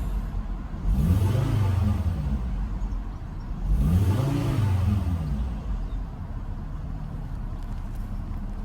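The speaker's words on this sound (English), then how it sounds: "Sound of the engine." A Renault Safrane five-cylinder engine revs up twice, rising and falling in pitch each time, then settles back to a steady idle rumble close by.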